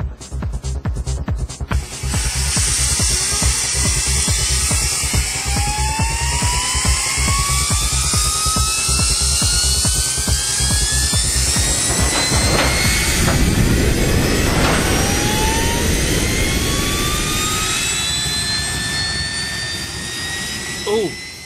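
A small jet engine mounted on a bunk bed spins up with a rising whine, then roars loudly and steadily with flames, its pitch climbing as it runs close by.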